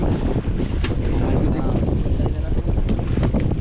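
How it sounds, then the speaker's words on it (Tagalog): Strong wind roars steadily across the microphone, a constant loud buffeting rush with no breaks, no voices standing out. "ang lakas ng hangin"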